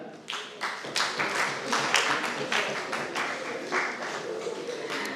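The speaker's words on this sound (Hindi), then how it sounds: "बैरिस्टर साहब के लिए भरपूर तालियां" An audience applauds a barrister at an evening gathering of the Nazariya Pakistan trust, with steady, dense clapping from many hands that stays fairly loud and even for several seconds and has no voices over it.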